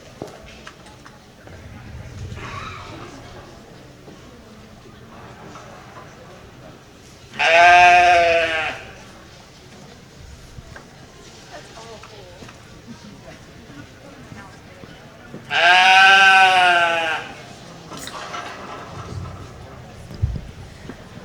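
Sheep bleating in the barn at the 2020 Fulton County junior fair sheep show, two loud drawn-out bleats about eight seconds apart over quiet barn murmur.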